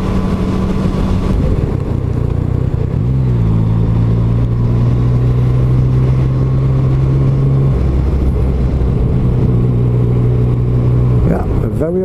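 A Yamaha MT-09 motorcycle engine hums steadily while riding, with shifting pitch and rev changes through the run, close and continuous; a voice speaks over it at times.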